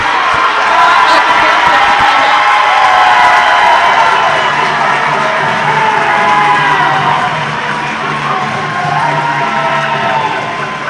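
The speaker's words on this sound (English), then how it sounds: "Bulldogs crowd is very excited." High school volleyball crowd at a Burbank gym cheers and yells loudly and continuously, shouts and whoops swelling over a dense roar, with a commentator's voice faintly underneath.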